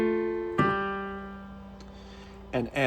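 A piano plays the lowest notes of both hands of Für Elise together: a pair of struck notes rings and decays, then a second attack follows near the end, close and clear.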